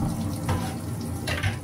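Water runs from a kitchen tap into a sink during washing up while making chicken noodle soup, a continuous splashing stream with a few louder surges as hands or dishes pass under the flow.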